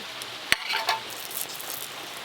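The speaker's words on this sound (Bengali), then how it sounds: "মালপোয়াগুলো তো ভাজা প্রায় শেষের পথে।" Palm-fruit malpua fry in hot oil with a soft, steady sizzle, broken early by a sharp utensil tap and a short stirring scrape nearby.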